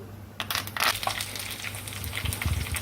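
Curry leaves hit hot oil with a sudden burst of crackling and spitting, then settle into a busy, close sizzle.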